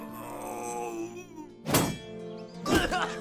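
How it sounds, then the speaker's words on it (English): Two silly enemy death sounds from the video game The Black Parade, each a loud thunking impact with a groaning cry, one at mid-clip and one near the end, over steady game music. "just love the silly death sounds."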